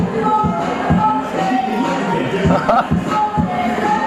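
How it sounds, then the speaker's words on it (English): A wrestling crowd at a UKW Friday Night Showdown event keeps up a Funky Donkey chant, a dense roar of many voices with rhythmic pulses rising and falling across the arena throughout. "a Funky Donkey chant in the crowd"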